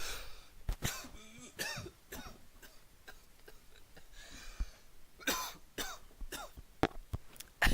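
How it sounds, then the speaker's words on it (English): A person coughs several times with sharp, close bursts spread through the quiet, then draws an audible breath in, with small throat-clearing sounds between the coughs. "you cough, and then you make that audible inhale"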